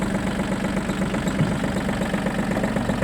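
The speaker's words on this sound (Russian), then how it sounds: "Двигатель работает ровно, как и положено." A small ISEKI SIAL19 Japanese mini tractor engine idles, a steady, even chugging rumble with a rapid regular beat, close and continuous with no other sounds.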